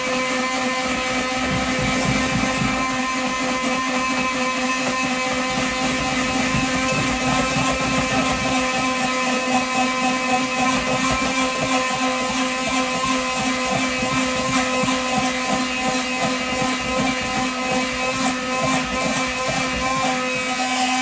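A blender whips aquafaba into vegan meringue, a steady loud motor whine with a rattling buzz that holds constant throughout, no talk over it.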